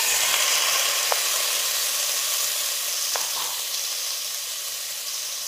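Potatoes drop into a hot pan for bone soup and sizzle steadily, a loud even hiss with faint clicks of utensils, no voices.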